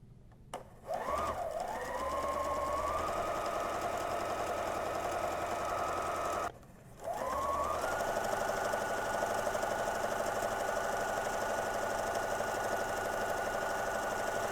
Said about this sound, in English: I'm going to sew all the way around, pivoting at the corners until I get back here